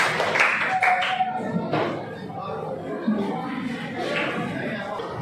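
Scattered clapping from a small group in a classroom coaching session for academic supervision, light and uneven claps mixed with shuffling and a voice talking over it.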